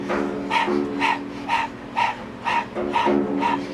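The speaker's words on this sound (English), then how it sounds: "open your mouth, stick out the tongue, and begin to pant rhythmically like a dog" Rhythmic open-mouthed panting, tongue out, done in a breath of fire exercise during a Kundalini yoga breathwork class, sounds as steady short breaths at about two per second, close and clear with no voices.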